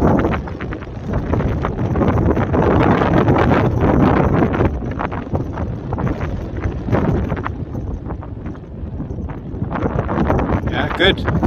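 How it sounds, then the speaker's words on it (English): Strong wind buffets the microphone on a hillside during slope soaring of a glider, a loud continuous roar with gusting swells throughout, while a person talks over it. "It's blowing like mad here and it looks so calm."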